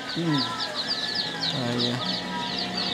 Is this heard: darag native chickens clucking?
yes